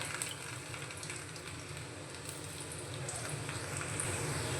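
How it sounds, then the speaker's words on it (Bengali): Long-cut strips of garlic fry in hot oil in a pan, a soft, even sizzle that builds slightly and continues without pause, fairly quiet and close, with no talking. "তেলের মধ্যে দিয়ে দেব রসুন"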